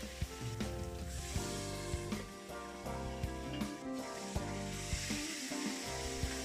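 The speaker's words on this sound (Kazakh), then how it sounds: "қызып тұрған табаға май құйып, кішкене осылай шытырлатып қуырып аламыз етіміздің бәрін" Meat frying in oil in a hot pan, cooked for homemade Korean ramen, with a steady close sizzle and crackle running throughout and sharp clicks of stirring or tapping, with no talking.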